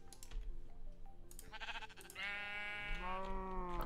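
A sheep in a block-building video game bleats once, a short wavering cry that rises out of faint background clicking.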